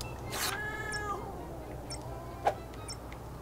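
A cat meows in the video game Jazzpunk, one clear drawn-out meow near the start, followed by faint short chirps and a small click over low steady background hum.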